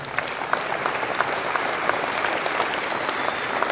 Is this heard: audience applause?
yes